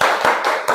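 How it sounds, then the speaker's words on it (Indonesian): Students in a classroom clap together in a counting game, a quick run of closely spaced group claps that blur into a steady, loud patter without a clear break. "Tepuk 4 kali."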